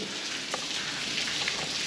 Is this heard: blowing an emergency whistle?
no